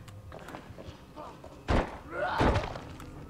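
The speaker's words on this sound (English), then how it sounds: "I heard him break through that door." A zombie breaking through a door in the video game ZombiU: a heavy thud and then a longer splintering crash, close and loud over a low game background, with a voice faint underneath.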